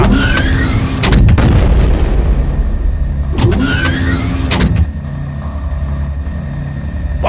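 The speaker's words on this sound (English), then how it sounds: "Bombs away!" Bombs falling and exploding in the video game Shadow Warrior, heard as two loud cycles, each a descending whistle followed by a heavy blast, over a constant deep rumbling drone.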